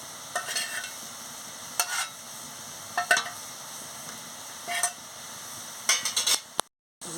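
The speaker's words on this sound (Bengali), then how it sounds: "গিমাটা দিয়ে আমি ভালো করে নাড়িয়ে নিচ্ছি" Ivy gourd is stirred in a frying pan over a low sizzle, with a spatula scraping in short separate strokes every second or so. Several quick clinks cluster near the end before the sound cuts off.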